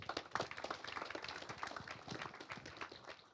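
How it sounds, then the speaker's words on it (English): Steady applause from an audience, a dense patter of clapping that holds at an even level throughout. "let's get a round of applause before Matt starts."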